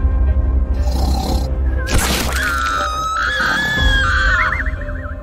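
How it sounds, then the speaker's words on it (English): A woman screams in a horror movie trailer, a loud, rising, wavering shriek that follows a crashing burst over a low rumbling soundtrack. "Why is Mom screaming?"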